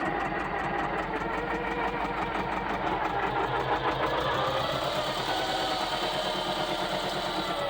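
Farm-mot 250D tractor from 1997 idling on its own without throttle, a steady mid-pitched diesel chug with even rhythmic pulses, close up and constant for several seconds.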